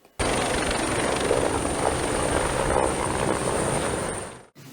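A helicopter arrives with a steady, loud rotor and engine roar that holds for about four seconds and then cuts off sharply. No voices are heard.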